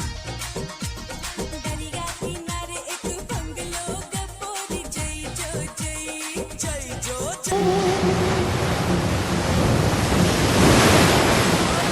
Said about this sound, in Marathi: जेवण आणि थोडा आराम झाल्यावर आम्ही आलो नागाव बीचवर